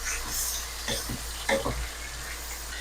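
Bitter melon (ampalaya) sizzling as it fries in a pan, with a few soft scrapes and stirs over steady frying hiss, close and fairly quiet.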